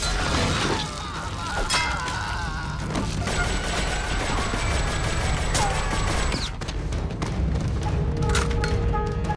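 AK rifle fire in a ninja action film, a dense sustained rattle of automatic shots mixed with booms and crashing impacts, loud and continuous with faint talk buried in the mix.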